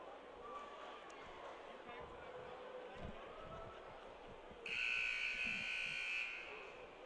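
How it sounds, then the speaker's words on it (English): A loud, sustained electronic buzzer sounds at a high school basketball game in a tournament, lasting about a second and a half over steady crowd noise and a commentator's voice. "So here we go as we hear the buzzer."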